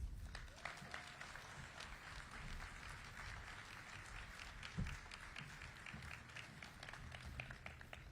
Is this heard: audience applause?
yes